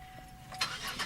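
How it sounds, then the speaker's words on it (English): A car engine cranks and catches in a brief, close burst after a quiet moment, then settles toward a running rumble. "So here, starting the car."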